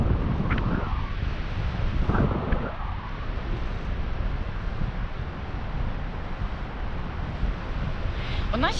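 Steady low rumbling wind buffeting the microphone throughout, with a couple of faint voice-like bursts early on.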